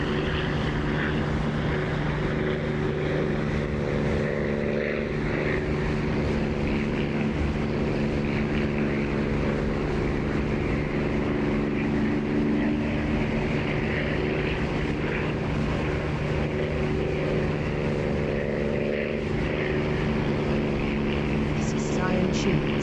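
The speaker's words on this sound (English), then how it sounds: "This one has the guttural sound of the moaning. Well, it's a Merlin engine, yeah." A Merlin-engined propeller aircraft in the DCS flight simulator drones with a loud, deep, guttural moan, constant and close throughout, with tonal engine harmonics.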